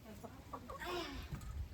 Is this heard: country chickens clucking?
yes